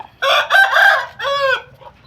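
A rooster crows loudly and close by in a single drawn-out call with a clipped final note, and chickens cluck faintly in the background.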